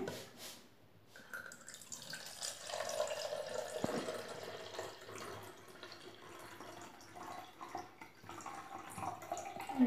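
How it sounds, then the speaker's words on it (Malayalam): Quiet coloured water pouring and trickling into a container marked in millilitres, with small drips and splashes, no talking. "അപ്പോൾ നമ്മൾ ഈ കളേർഡ് വാട്ടർ ഇതിലേക്ക് ഒഴിക്കുകയാണ്"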